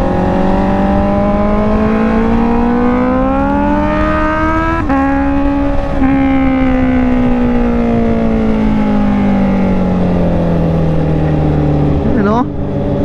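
Honda CB650R motorcycle engine while riding, a loud, steady inline-four drone with rising and falling pitch as revs climb and ease, running continuously close-up with wind rush and some speech mixed in.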